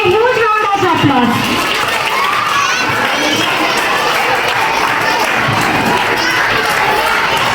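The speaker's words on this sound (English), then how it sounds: "Please give them a huge round of applause." A school audience at a children's day celebration applauds, with loud cheering and excited children's shouts blending into a dense, continuous roar of clapping and crowd noise.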